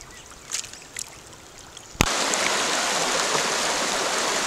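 River rapids on a stream in Chahuatlán rush in a steady, loud broadband roar that swells abruptly midway, preceded by a few faint splashes and knocks.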